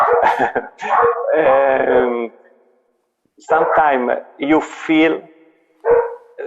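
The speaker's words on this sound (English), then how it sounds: "Sorry for the dogs." Dogs bark and howl nearby in two loud bursts separated by a short silence, with a voice speaking briefly among the noise.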